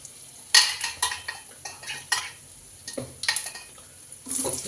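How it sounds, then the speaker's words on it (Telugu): Mustard seeds and curry leaves fry in hot oil for street-style batani chaat, heard as a series of close, uneven bursts of sizzling and spattering with scraping stirring between them and no voices. "పచ్చిమిర్చి, ఆనియన్స్ బాగా వేయించుకుందాం."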